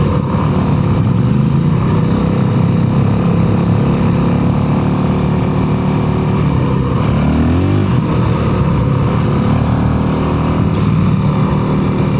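A 2025 Honda CRF450RL dirt bike engine drones loudly and steadily while riding down a road, with a continuous motor roar and a brief shift in pitch midway.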